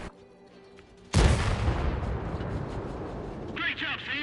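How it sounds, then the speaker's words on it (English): A heavy artillery shell lands in World of Tanks with a sudden, loud boom, then a long rumbling roar of debris and echo. A faint crackling burst follows near the end of the blast's tail. "Why ain't our artillery dropping it on him?"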